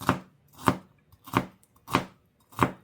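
A sharp MasterChef knife cuts food into cubes on a board with five evenly spaced, crisp chops. Each chop is close and distinct, with near silence between strokes.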